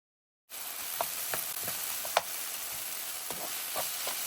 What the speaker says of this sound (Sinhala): මම එකතු කරගත්තා බිත්තර 4ක්. ඒ හතරම හොඳට බැදෙන්න දෙන්න ඕනේ.